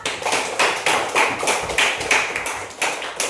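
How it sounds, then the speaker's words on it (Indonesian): Children clap their hands together in a classroom, a quick run of roughly a dozen fairly even bursts, close and lively, with no talking over it. "Tepuk tangan untuk kita semua"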